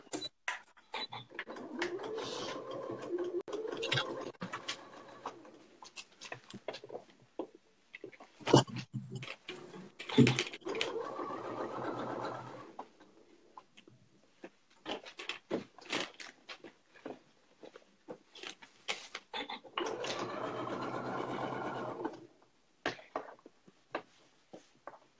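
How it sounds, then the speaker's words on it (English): A home sewing machine stitching in bursts, rapid mechanical ticking runs separated by pauses, quiet and close, with soft handling clicks between runs. "I think I might use my machine, since it's kind of an awkward place to come to stitch."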